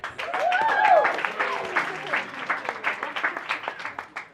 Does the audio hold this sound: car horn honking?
no